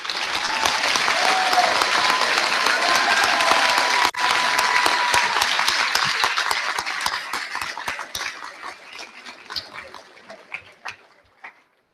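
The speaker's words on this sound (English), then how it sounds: "Please give all teachers present a round of applause." Graduation audience at a high school ceremony applauds teachers with sustained, dense clapping that fills the space, holding steady for about eight seconds before thinning into scattered claps and fading out.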